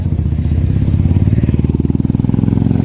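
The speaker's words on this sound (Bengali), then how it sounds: "যত ডুগডুগি আলা বাইক নিতে পারে তত ভালো, যত আওয়াজ বেশি হয় ওটাই ওদের এখন ইয়ো ব্যাপার" A loud student motorcycle with a booming exhaust thumps close by in a rapid, steady pulsing rhythm as the engine revs, heard on a cloudy day with almost no other sound.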